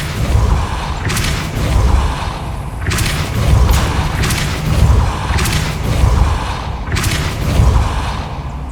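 Spell blasts in the game Hogwarts Legacy land as repeated booming thuds with bright crackling bursts, about six impacts spaced roughly a second apart over a low rumbling backdrop.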